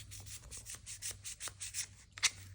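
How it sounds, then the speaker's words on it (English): Fine-grit sandpaper rubbed by hand along a rusty high carbon steel knife blade, giving a steady run of short, scratchy strokes close to the mic with one sharper scrape near the end. "when you're using these really fine grits, the sandpaper clogs up really fast"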